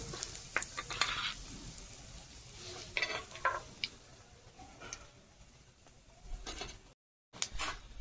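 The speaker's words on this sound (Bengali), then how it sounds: "4টে এলাচের মুখ ফাটে নিয়েছি আর গোটা জিরে দিচ্ছি" Whole cumin, split cardamom pods and dried red chillies sizzle in hot oil in a pan, a soft, steady frying hiss with occasional stirring scrapes and light ticks, fairly faint and close.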